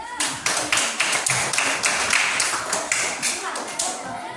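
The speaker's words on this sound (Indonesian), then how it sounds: "Oke, tepuk tangan kita semuanya." A classroom group of children claps together after a breathing exercise, a steady rapid patter of many hands filling the room, fairly close and continuous for a few seconds with faint voices underneath.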